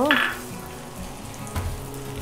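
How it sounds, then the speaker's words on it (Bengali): A cup of chopped onions hits hot oil in a pan with a sharp burst of sizzling, then settles into a soft, steady frying hiss with faint stirring, close by and without voices. "এরপর এখানে আমি 1 কাপ পেঁয়াজ কুচি দিয়ে দিব, দিয়ে ভেজে নিব।"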